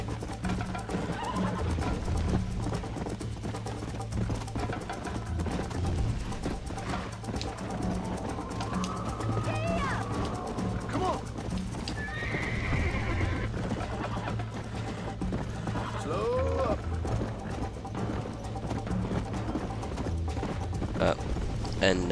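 Rapid clip-clop hoofbeats of a galloping horse in Red Dead Redemption on Xbox 360 run steadily beneath game music and a voice, with occasional bird calls and a brief whinny.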